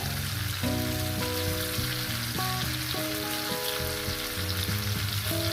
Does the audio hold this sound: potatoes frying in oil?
yes